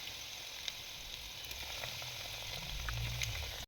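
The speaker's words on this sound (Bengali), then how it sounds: "আরেকবার ভাজতে দিয়েছি" Meat chops fry in hot oil in a home kitchen, giving a steady, even sizzle that swells slightly toward the end, then cuts off abruptly.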